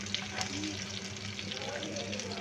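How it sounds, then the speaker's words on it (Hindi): Kebabs frying in hot oil make a steady sizzle and crackle, close and continuous, with faint kitchen clatter and a brief voice in the background. "यहाँ पे हो रहे हैं जी कबाब फ्राई"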